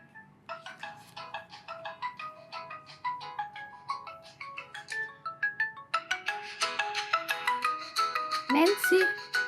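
A mobile phone rings with an incoming call, a bright melodic ringtone repeating its phrase for several seconds and growing louder and busier toward the end, with no talk over it.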